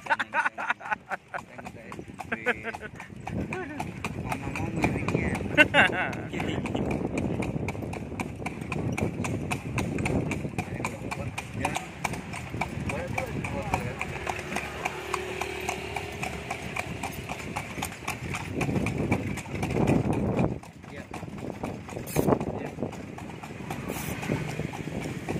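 Hooves of a horse pulling an andong carriage in Bukittinggi, West Sumatra clip-clop in a steady rapid trot over pavement with rattling carriage noise, while people talk over it throughout.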